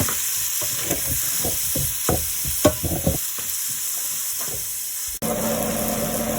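Paprika and other spices stirred around a hot pan for a weeknight chili, with a run of quick, close scraping and tapping strokes over a soft steady sizzle, then a brief cut and a smoother hiss.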